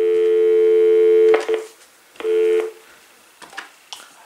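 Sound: telephone tones on AT&T SynJ SB67118 speakerphone

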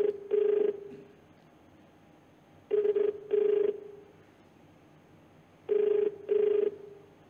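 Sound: telephone ringing unanswered

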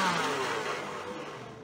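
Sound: blender running in a video game

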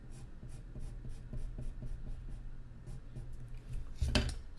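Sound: drawing horizontal lines on a saxophone reed

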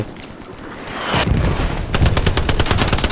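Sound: gunfire in a video game

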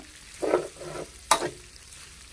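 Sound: stirring pork rinds frying in oil in a pan

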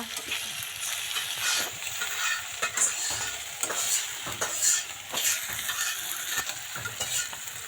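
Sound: ginger and cumin paste frying for a roast

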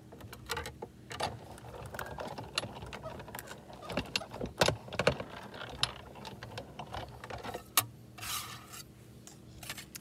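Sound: die cutting machine cutting out a sweater card die

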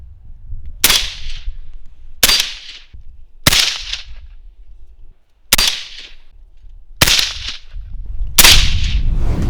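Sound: suppressed Kalashnikov rifle shots

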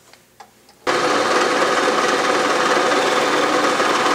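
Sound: Bridgeport milling machine cutting T-nut in one pass

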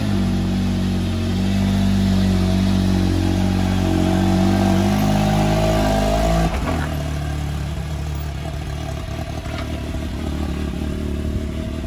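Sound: off-road vehicle engine started and driven for a ride

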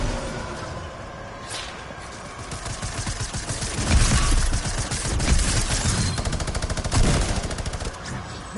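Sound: minigun firing in Fortnite video game

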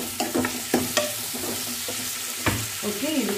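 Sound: two tomatoes frying in a pan

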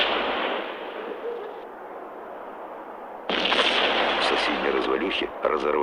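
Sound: bomb explosion in the video game Max Payne

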